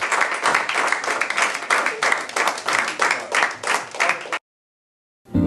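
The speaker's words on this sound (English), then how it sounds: "Let's have some applause from our audience before we go to commercial" Studio audience applause on the Eye on Paulsboro TV show: loud, dense clapping that keeps going for about four seconds, then cuts off abruptly into silence before a brief new sound at the end.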